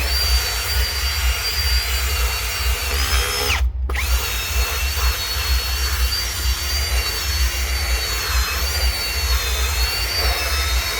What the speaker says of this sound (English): if you have one of these drill brushes, go ahead, use the drill brush.